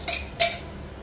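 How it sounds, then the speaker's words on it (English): A metal pan is set down on a stove with two quick clanks, the second one louder, followed by quiet. "Keep a pan on stove."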